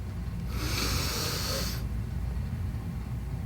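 A person taking a deep breath in, one close, airy inhale lasting about a second against a low background hum.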